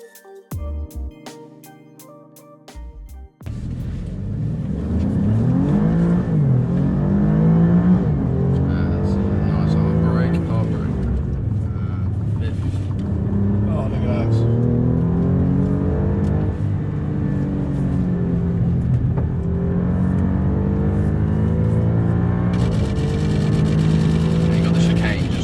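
An Alfa Romeo Giulia Quadrifoglio's engine accelerates hard from inside the cabin, rising through the gears in repeated loud surges and upshifts, with a person talking over it.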